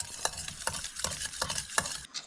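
A spoon briskly mixes a sauce of hot chili oil and lemon juice in a bowl, making rapid, evenly spaced scraping strokes close up, about a dozen in quick rhythm, with no talking.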